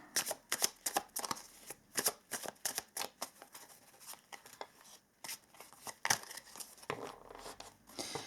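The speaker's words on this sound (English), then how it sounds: "Going to pull a couple more tarot cards for the middle here." Tarot cards being pulled and shuffled at close range, a rapid series of crisp riffling and snapping bursts with short pauses between them and no voices.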